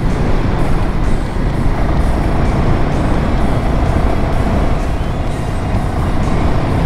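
Royal Enfield Himalayan 450 motorcycle ridden along a gravel road in Bunyip State Park, giving a steady, loud, close drone of engine and rushing wind-roar with little variation.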